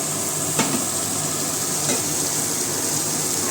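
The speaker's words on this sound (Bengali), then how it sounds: "মূলো ভাজা" Radish frying in a pan, a close, continuous hissing sizzle with a couple of faint stirring scrapes, steady and uninterrupted with no talk.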